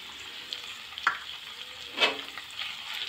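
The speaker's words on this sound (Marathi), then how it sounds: "हा मसाला छानपैकी मिक्स करून घेऊया" A spoon stirs ground spice masala into steamed mixed vegetables in a pan, with a faint continuous sizzle and a few soft scraping clinks, close and quiet, without any voices.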